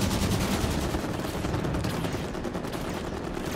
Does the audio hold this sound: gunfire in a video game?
yes